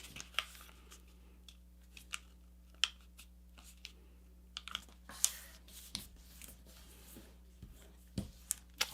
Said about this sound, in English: I'm now going to fold this edge into the center.